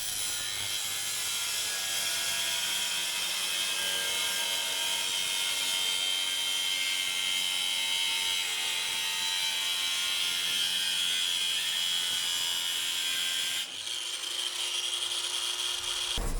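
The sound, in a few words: cutoff wheel scoring metal bumper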